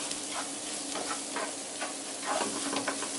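Boiled rice sizzling in hot oil in a pan, a steady close frying hiss with faint stirring scrapes and small crackles, no talking.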